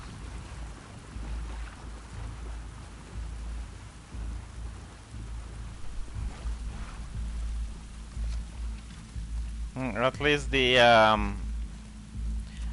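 Steady rain falls in the rainy outdoor environment of The Last of Us Part II, a constant hiss with a low rumble underneath, while a voice speaks briefly near the end.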